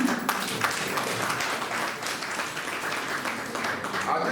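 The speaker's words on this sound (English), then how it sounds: "Another round of applause for you." A large crowd at a regional development program claps steadily in honour of a regional minister, a dense and even roar of many hands sustained throughout, with faint voices mixed in.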